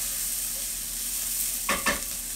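Onions frying in a pan for a Tex-Mex casserole, a steady close sizzle with two quick stirring scrapes near the end, no voices.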